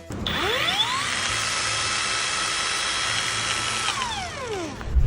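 A Flex variable speed stone grinder and polisher runs up to a high, steady whine, holds loud and close for several seconds, then spins down with falling pitch.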